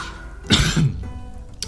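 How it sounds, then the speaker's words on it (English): A single throat clearing, close and fairly loud, a short rough burst with a lower grunt after it, then quiet, during a Slashers Keep game session. "Sorry there, I had to clear my throat."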